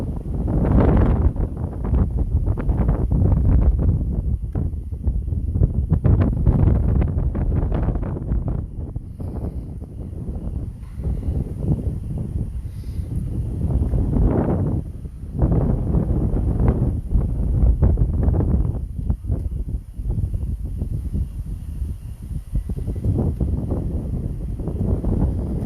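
Strong gusty wind buffets a mountainside above Bountiful, Utah, during a spreading wildfire, roaring in close, heavy, uneven surges across the whole stretch with no speech.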